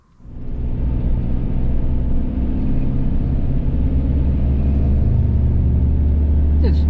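A car driving on the road makes a steady, loud low rumble of engine and road noise that runs the whole time, with a faint sound at the very end.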